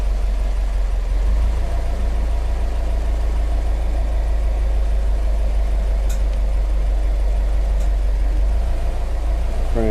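A Subaru STi engine runs steadily at idle with the car parked during power steering work, a deep, constant low rumble close by with a couple of faint clicks near the end.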